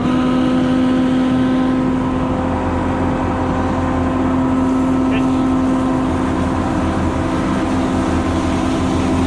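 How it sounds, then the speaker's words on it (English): A tractor's PTO driving an orchard sprayer pump, a loud, steady mechanical drone with a constant hum running unbroken throughout, close by, with a voice faintly heard. "So Adrian's gonna go jump in the tractor, turn on the PTO there"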